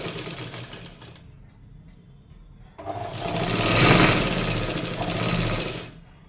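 A sewing machine runs a straight seam along a blouse hook-and-eye strip. A fast, even mechanical whir starts and stops, pauses, then drives on louder and steady at close range.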